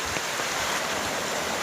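Swollen river water rushes past after a night of heavy rain near a village, a dense, steady roar of flowing water, loud and close, with no voices.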